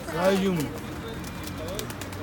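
Pigeons or doves on a busy city pedestrian street in Sofia coo briefly near the start, with a flutter of wings as they fly off, over steady street noise; people talk at the start.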